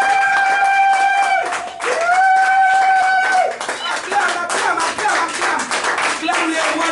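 A congregation at a prayer vigil claps in a quick, steady rhythm while a voice sings or calls out over it, with the crowd growing louder and busier in the second half.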